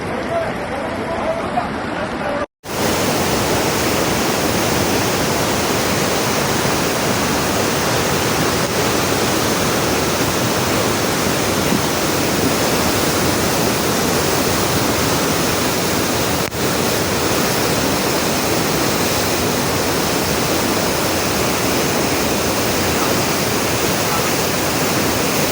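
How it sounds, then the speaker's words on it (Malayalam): Floodwater rushes along a road after the Wayanad landslide in Kerala, a loud, unbroken roar of torrential water that fills the scene after a brief quiet opening and continues steadily to the end. "ആ റോഡിലൂടെയാണ് ആ വെള്ളം വരുന്നത് കേട്ടോ."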